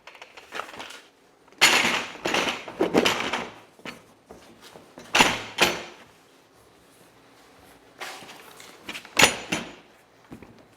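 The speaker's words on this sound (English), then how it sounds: "Next, you'll want to put the lid on." A plastic lid being fitted onto a Buckhorn Caliber IBC bulk container with a form-fit liner: several loud hollow thumps and clatters in bursts with short pauses between, close by, no talk.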